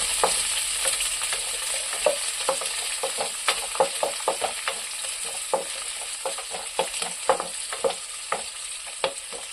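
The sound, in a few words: onions sautéing in pan for mushroom gravy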